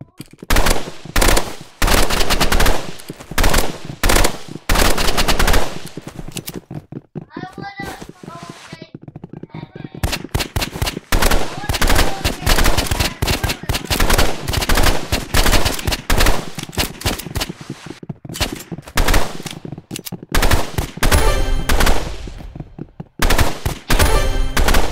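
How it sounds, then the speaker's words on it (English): Burst rifle gunfire in a video game, loud rapid bursts of shots repeating across the whole stretch with brief gaps, mixed with other game effects and a voice speaking at times. "Burst rifle."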